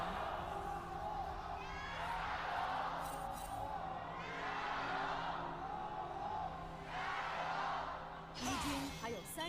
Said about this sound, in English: Let's instead listen to the crowd, who will be not breathing so much because they'll be yelling.